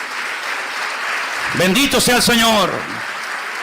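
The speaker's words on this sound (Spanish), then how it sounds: "Dale un aplauso al Señor" A church congregation clapping in a burst of applause while a preacher speaks loudly over it, the clapping rising midway and then fading.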